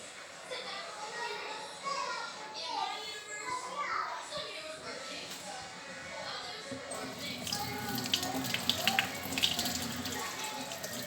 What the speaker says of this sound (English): Add water to the coconut milk